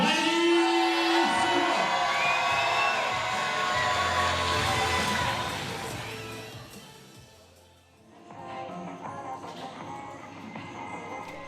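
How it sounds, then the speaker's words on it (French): A crowd cheering and whooping after a boxing match, loud shouts and yells swelling early, then fading to a lull before renewed crowd noise, with tonal music or announcing layered over the start. "Merci de faire un bruit encore à l'applaudissement pour Maëlys"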